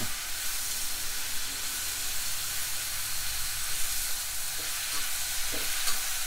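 Hong Kong choy sum greens being stir-fried in a wok with oyster sauce and sugar, giving a steady, close, continuous sizzle and hiss with scraping stirs throughout and no talking.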